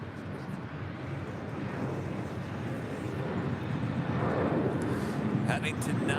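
Delta Boeing 737-900ER jet taking off from runway 24 left at LAX, a broad steady engine roar that swells gradually, heard from a distance with some wind noise over the microphone.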